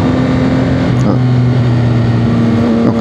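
A CF-Moto 675 SR-R sport motorcycle ridden slowly, its engine droning at a steady low, even pitch throughout with continuous wind rush and no clear revving.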